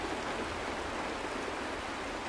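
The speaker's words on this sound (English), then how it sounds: "It is raining." Steady rain pours down in the Honkai Star Rail video game, an even, continuous hiss of falling water with no pauses or voices.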